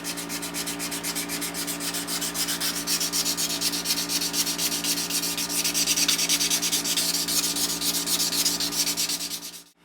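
Sandpaper is rubbed rapidly back and forth across knife handle scales in quick, even, close strokes that continue for several seconds before stopping abruptly, with a steady hum underneath.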